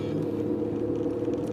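A car exits the 110 freeway onto PCH with a continuous low road rumble and engine drone, steady and close throughout.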